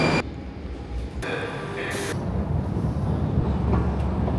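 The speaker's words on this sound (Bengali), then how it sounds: "আমার মেট্রো চলে আসছে।" A Moscow metro train pulls into an underground station, a broad rushing roar that swells steadily and stays loud, with brief hissing bursts near the start.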